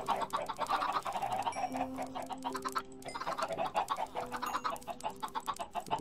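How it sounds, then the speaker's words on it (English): Chickens in the video game Minecraft cluck repeatedly in a busy overlapping stream, fairly close and moderately loud, with no talking. "Might be all the chickens."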